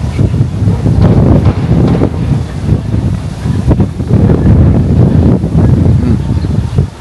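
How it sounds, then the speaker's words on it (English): Strong wind buffets the microphone in loud, rumbling gusts that rise and fall, with no talking. "The breeze are blowing away, guys. Windy."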